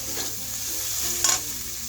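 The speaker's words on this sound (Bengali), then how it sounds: "খুব ভালোভাবে নাড়িয়ে চাড়িয়ে চিংড়ি মাছগুলোকে প্রায় 1 মিনিটের মতো ভেজে নিয়েছি" Minced shrimp fries in a pan with a close, steady sizzle and a brief scrape of stirring near the end, no voices.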